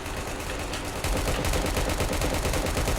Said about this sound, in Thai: ดูเหมือนว่า นั้นตำรวจยิงเหรอ